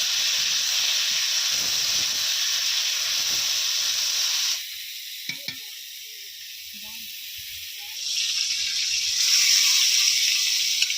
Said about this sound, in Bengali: ফুলকপিগুলো ভেজে নেওয়া হবে।